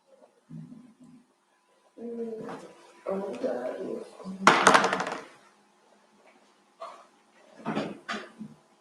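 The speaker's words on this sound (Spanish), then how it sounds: "Abro la puerta para distraer un poquito." A door is opened indoors, a brief clattering knock rising between stretches of nearby talking voices, with quieter rustles before and after.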